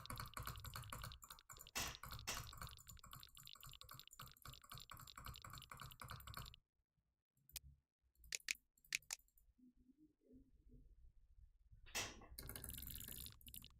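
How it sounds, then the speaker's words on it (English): Rapid drag clicking on a computer mouse makes a fast, dense rattle of clicks that stops for a few seconds, returns in scattered bursts, then resumes at full speed. "I'm drag clicking, baby."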